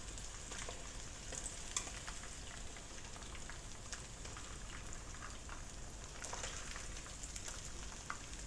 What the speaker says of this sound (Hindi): फ़िश हमारी बहुत अच्छे तरीके से फ्राई हो चुकी है।